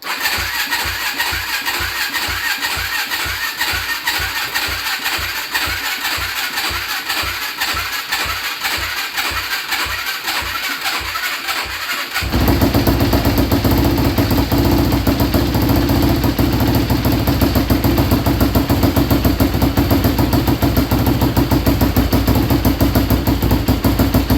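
A Yamaha Blaster quad engine, fitted with a 450, sputters with a rapid uneven rhythm for about twelve seconds, then catches and settles into a loud, steady running note with no talk over it.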